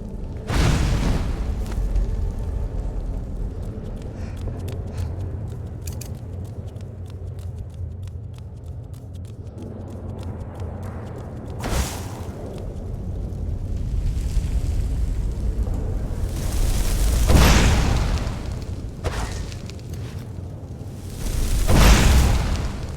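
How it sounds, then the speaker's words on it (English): Fire-breath shouts in Skyrim roar out as several loud, broadband bursts spread across a low, rumbling game soundscape, with roughly four separate whooshing blasts. "Short bursts of fire are very effective, using only little magicka and dealing a lot of damage"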